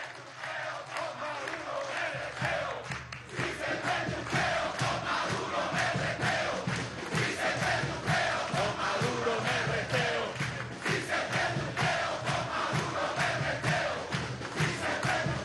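A large crowd at a workers' congress rally fills the hall with sustained, dense applause and cheering, loud and continuous throughout with a steady wash of clapping and voices.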